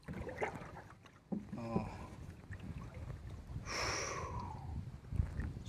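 Paddle strokes and water splashes from a light wooden bangka rowed one-handed on a calm sea, close and uneven, with a brief exclamation and breathy sounds in between.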